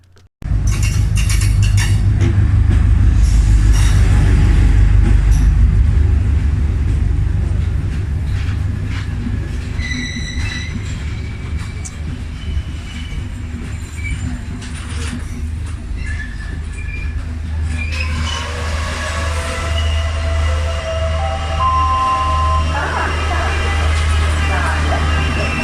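A Sri Lankan train runs loudly and steadily, wheels rumbling on the rails with occasional squeals and clanks, and the tone shifts partway through as the ride continues.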